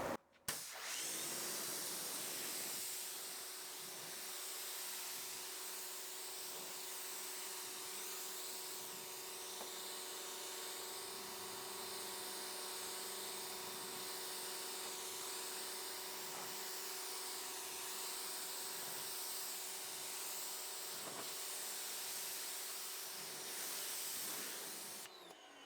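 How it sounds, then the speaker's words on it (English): A continuous hissing rush of water spraying to rinse a coated surface, steady and fairly close, running the whole time with no voices. "I'm going to come back in, we'll rinse this off."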